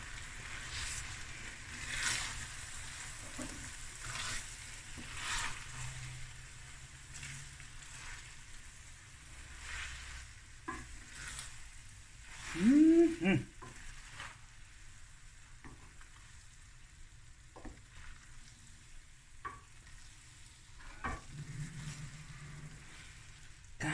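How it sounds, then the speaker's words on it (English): Tuna spaghetti sauce simmers and sizzles quietly in a pan while it is stirred, with a low steady crackle and occasional scraping and clinks, one brief louder scrape midway. "I'm just gonna stir it."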